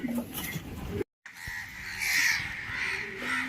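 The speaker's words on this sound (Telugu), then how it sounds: "దా కాకులకి ఏమొచ్చింది సడన్గా" Several crows caw in harsh, repeated calls outdoors, fairly close and loud, with a brief silent break before the cawing resumes.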